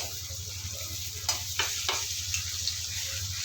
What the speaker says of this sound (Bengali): কিছুক্ষণ ভাজার পরে এখানে আমি আদা রসুন বাটা দিয়ে দেবো